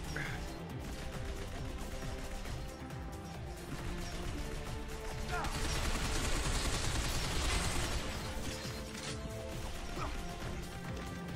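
Gunfire in the video game Binary Domain, a dense, continuous wash of shots and crashing impacts that swells in the middle, with a voice speaking now and then over it.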